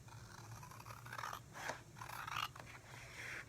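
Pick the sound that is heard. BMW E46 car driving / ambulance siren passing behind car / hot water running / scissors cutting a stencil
scissors cutting a stencil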